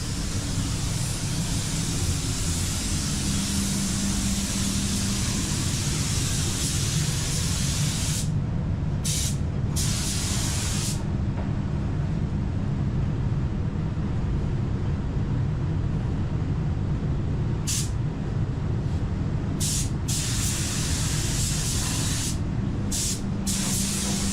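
A paint spray gun hisses continuously and loudly up close while laying a setup coat on a Mazda car body, with a few brief pauses in the spray.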